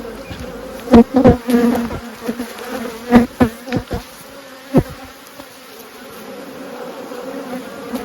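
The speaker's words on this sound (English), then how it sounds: "There's so many bees in here, I don't want to squish them." Honey bees in an open hive buzz in a constant close drone while sharp knocks and scrapes of hive equipment punctuate the first half, then the buzzing carries on alone.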